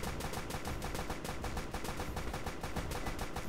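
Rapid, evenly spaced bursts of automatic machine gun fire from a Roblox game sound continuously at moderate, fairly faint volume, with no talking over them.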